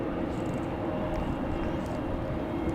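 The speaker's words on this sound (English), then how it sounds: "Let's check out this Southwest coming in" A Southwest airliner on final approach to runway 23 at Raleigh-Durham International on a windy night, its engines a steady, fairly loud broadband roar with no talk.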